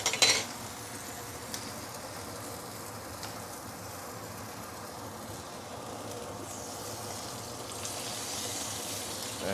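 Fish grills in oil on a pan with a steady, soft sizzle that continues evenly throughout, and a brief clatter can be heard at the start.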